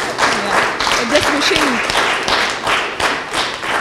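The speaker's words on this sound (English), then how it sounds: "Huge round of applause for her." Steady audience applause from a crowd at a Women's Day event in the Telugu film industry, continuous clapping with scattered louder claps and faint voices mixed in underneath.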